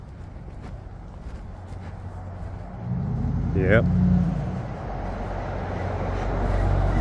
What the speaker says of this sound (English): Here we go, another loud truck. It's probably coming this way.